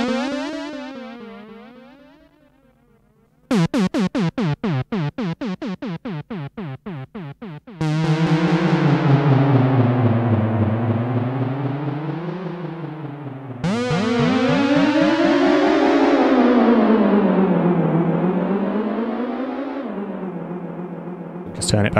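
A guitar runs through a Boss DE-200 digital delay, its sustained notes repeating and warbling with sweeping, wavering pitch modulation across several loud passages separated by brief pauses.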